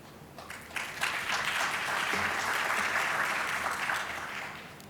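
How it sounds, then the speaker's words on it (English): Audience applause at a panel on SME banking transformation, a steady broadband wash of clapping that swells after a second and holds at moderate, roomy loudness before easing slightly at the end. "That deserves a round of applause."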